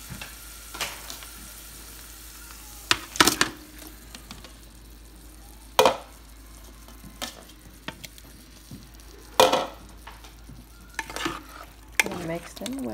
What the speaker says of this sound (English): I'm gonna add 1 envelope of sazon, and I'm gonna add the shrimp.